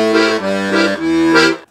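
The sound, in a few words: piano accordion zydeco riff in C with bass line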